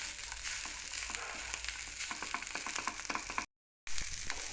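Cluster beans thecha sautéing in a pan: a steady, close sizzle with scattered crackles and stirring scrapes, broken by a brief silent gap near the end.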